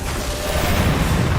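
A Confringo explosive spell goes off in Hogwarts Legacy, a loud sustained booming blast with rumbling low end that fills the whole moment without letting up.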